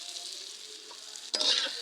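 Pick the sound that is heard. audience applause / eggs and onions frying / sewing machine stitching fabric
eggs and onions frying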